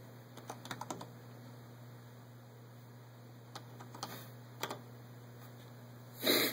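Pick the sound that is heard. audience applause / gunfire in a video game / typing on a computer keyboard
typing on a computer keyboard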